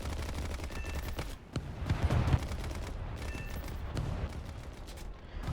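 Aircraft guns fire in an air combat video game with a Hurricane fighter, a steady dense rattle of rapid bursts running throughout at moderate loudness, with no talk over it.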